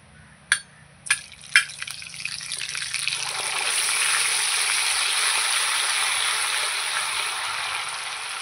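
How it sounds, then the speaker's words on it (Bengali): Water poured from a bowl into a cooking pan of fish curry, arriving as a steady broadband gush that swells and holds after three short sharp knocks, close and fairly loud with no talk. "বাটিটা ধুয়ে একটু জল দিয়ে দেবো।"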